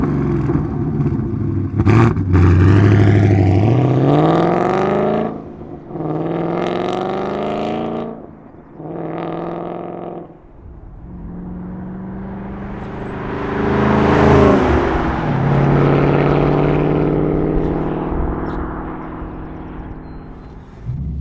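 Ford Mustang GT fitted with an MBRP 3-inch Street cat-back exhaust, revved outdoors in a series of loud, rising engine surges followed by a sustained, throaty rumble, with no talking.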